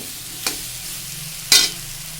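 Jackfruit seeds fry lightly in a pan with turmeric, giving a soft steady sizzle broken by two clear scraping stirs, the second louder.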